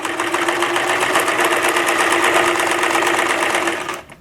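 A sewing machine stitches a silk ruffle onto stretched elastic in a loud, fast, even mechanical chatter lasting about four seconds before stopping abruptly.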